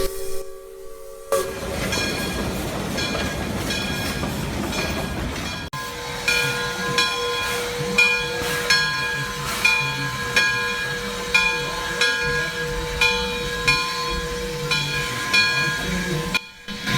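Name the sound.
narrow-gauge Shay steam locomotive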